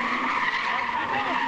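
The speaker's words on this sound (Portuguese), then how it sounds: "isso é um drift. Driftou." A car drifts with its tires skidding in a long, loud continuous squeal, heard from a moderate distance, with voices faintly underneath.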